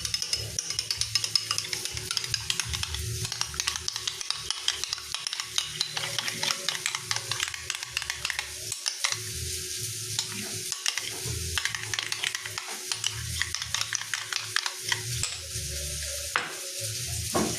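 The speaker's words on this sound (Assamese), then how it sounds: "আৰু অলপ ক্ৰীম দি দিছোঁ ভালদৰে মিক্স কৰি লওঁ" Cream being stirred into a cooking dish on a live recipe show, with steady sizzling and scraping stir strokes throughout, fairly close and busy, with no talk.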